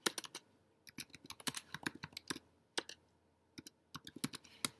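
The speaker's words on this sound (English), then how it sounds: "So you can type a question." A question is typed into the Zoom chat on a computer keyboard: quick irregular bursts of sharp key clicks with short pauses between words, close but quiet, no talk.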